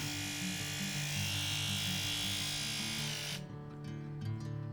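A Braun PT 5010 electric hair trimmer runs with a steady, close buzzing whir that cuts off sharply after about three and a half seconds, leaving only a faint hum.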